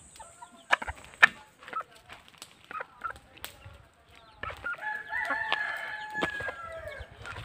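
A rooster crows and chickens cluck in short bursts, fairly close, with scattered rustling and outdoor background noise.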